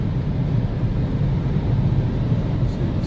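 A 2019 VW Polo R with a 1.0 TSI 116 hp engine cruising in sixth gear on the autobahn below 4000 rpm, a steady low engine drone blended with heavy road and wind roar, constant and unbroken.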